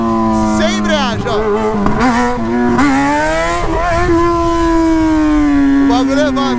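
A Yamaha XJ6 motorcycle engine revs repeatedly, climbing and dropping in pitch with a rising, sustained high-rev whine near the end; the engine is loud and close.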